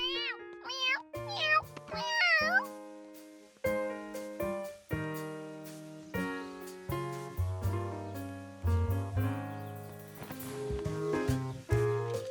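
A cartoon cat meows several times in quick, rising and falling cries near the start, followed by a bright music score playing on its own.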